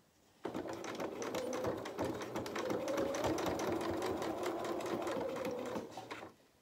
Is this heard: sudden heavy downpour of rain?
no